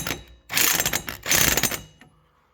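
A ratchet clicks through two quick bursts while tightening the axle nut on an ATV CV axle, a close, loud run of rapid metallic ticks with a brief pause between bursts, with no talk.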